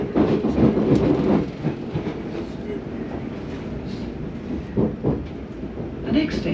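Onboard a London train running from Fenchurch Street toward Limehouse: steady rumble of the carriage with rhythmic wheel clatter throughout, moderately loud and close, with faint background voices.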